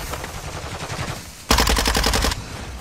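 Automatic gunfire in the Warzone video game, a fast continuous burst of rapid shots that suddenly grows louder and closer midway through, over a busy game background.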